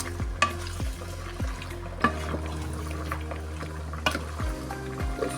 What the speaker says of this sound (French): Ma soeur fait frire, comment on appelle? Poisson salé.